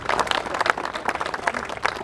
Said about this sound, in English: give Matt a round of applause too.